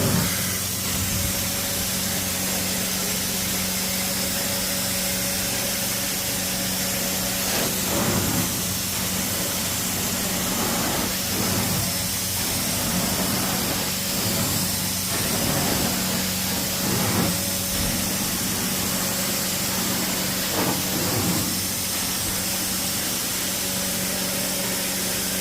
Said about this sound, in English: Look at all that steam, boy. Got that bad boy on high.